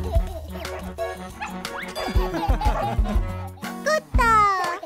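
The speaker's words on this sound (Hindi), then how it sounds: "कुत्ता" A dog barks and yips in a Hindi children's rhyme, several bright barks mixed with music and a voice.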